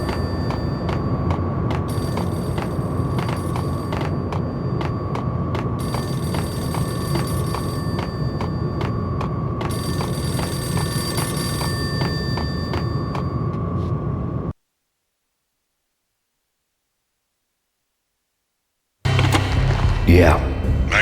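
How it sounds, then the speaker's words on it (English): Payphone in the Max Payne video game rings with loud, repeated electronic trills over dark ambience, then falls silent before a voice speaks. "A payphone started to ring."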